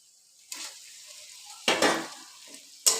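Fried pointed gourd stirred into spiced oil, with three loud bursts of sizzling as the pieces hit and are turned in the pan, each fading into a softer crackle.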